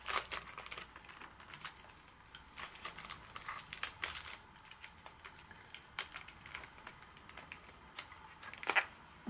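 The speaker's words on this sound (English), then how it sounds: "Let's get this foil off." Plastic foil wrap is peeled and crinkled off a Chanel Les Eaux perfume box, heard up close as faint, irregular crackles and sharp ticks scattered across several seconds with quiet gaps between.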